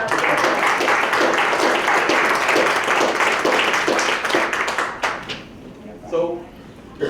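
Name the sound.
audience applause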